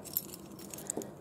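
Car keys for a 1997 Buick Century derby car jangle briefly and faintly in a hand, a few soft metallic clinks against a quiet background.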